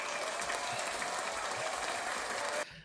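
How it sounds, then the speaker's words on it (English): Studio audience applauding a guest on a talk show, a dense steady clapping that runs loud for over two seconds and then cuts off abruptly near the end. "Give Ben the clap"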